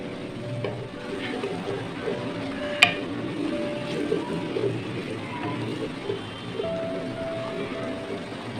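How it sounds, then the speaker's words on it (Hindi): A tablespoon of ginger garlic paste fries in hot ghee in a pot, a steady soft sizzle with a faint clink of a spoon against the pan, heard close and alone. "अब इसमें डालूंगा 1 टेबल स्पून अदरक लहसुन का पेस्ट। घी गरम है और पेस्ट जो है वो जल्दी फ्राई हो जाता है"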